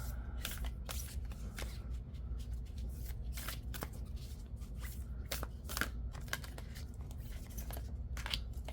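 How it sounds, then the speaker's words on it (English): Oracle cards are shuffled close by in a series of quick papery riffles and slaps, repeated bursts over a quiet background. "And now we'll pick your oracle cards."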